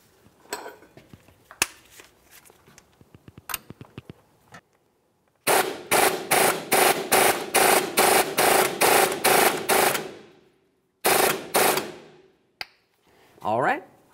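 A ball joint is pressed into the control arm of a 2002-2005 Ford Explorer's upper suspension. The clip opens with scattered sharp metallic clicks and clacks. Then comes a loud, steady run of rapid mechanical hammering bursts, a pause, a second shorter run, and a final brief whirring burst.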